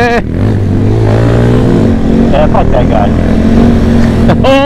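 Motorcycles roaring past on a road, one rider pulling a wheelie, with loud engine drone and rising revs up close, while people talk and shout over the noise.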